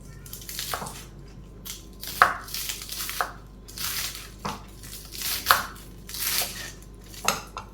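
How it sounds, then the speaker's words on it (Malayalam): A kitchen knife chops spring onion on a chopping board, with a series of crisp, fairly soft taps that come in an uneven rhythm, heard close up in a quiet room. "നമുക്ക് വേറൊരു ചോപ്പിംഗ് ബോർഡിൽ സ്പ്രിംഗ് ഒനിയൻ അരിഞ്ഞെടുക്കാം."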